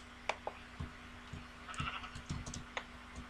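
Sheep bleating in the Minecraft video game: a few short, bright bleats scattered over soft keyboard and mouse clicks, with no talking.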